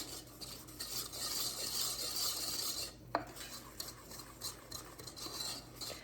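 A rubberized whisk stirs a mixture in a non-stick saucepan with soft, continuous scraping and swishing strokes. It is fairly quiet, with one brief knock near the middle, and no one talks.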